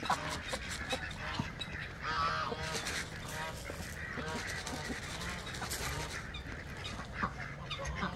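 Several ducks call from a farmyard on a morning, giving faint, scattered quacks and honking cries against a busy, low background.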